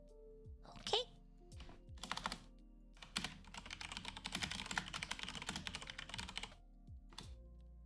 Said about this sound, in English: Apparently the Mac keyboard is really loud.